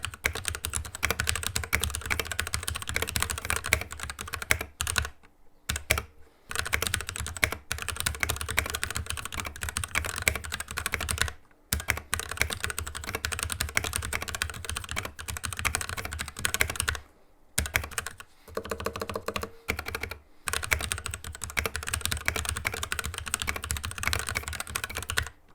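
Typing on a HyperX Ducky One 2 Mini mechanical keyboard, brisk close-up clacking of keys in rapid bursts, broken by several short silent pauses, with no voices.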